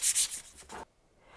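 Soft sandpaper rubbing over paper in a few quick strokes, each a dry, close scratchy swish, before the sound stops and only quiet room tone remains.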